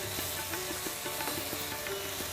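Curry being sautéed and stirred in a frying pan, a steady close sizzle of frying with scraping stir strokes and light clinks from the utensil, continuous and fairly loud with no voices.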